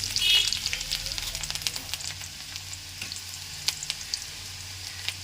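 Chopped onions dropped into hot oil sizzle and crackle steadily up close, with a louder burst at the start and soft stirring clicks after, for a few seconds without speech.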